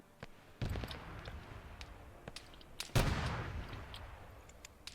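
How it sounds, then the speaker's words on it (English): Gunfire from a Gorgon armored vehicle in the military game Arma 3: two heavy booming shots about two seconds apart with a rolling tail, plus scattered lighter distant cracks across a battlefield. "So we're hearing that Gorgon open fire now."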